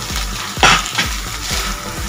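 Schezwan sauce and paneer stirred together in a hot pan, a loud close sizzle broken by several rhythmic scraping strokes of the spoon, with no talking.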